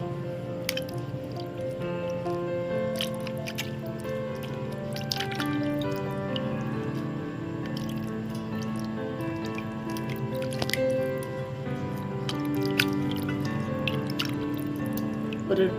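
Raw chicken pieces are rinsed in water, with close, irregular drips, splashes and squishy handling sounds continuing steadily throughout. Occasional louder splashes rise above the wet churning.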